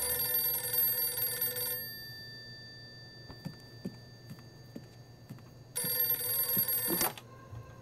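Telephone bell ringing in two loud bursts separated by a pause filled with light clicks and taps, the second ring cut short as the receiver is picked up.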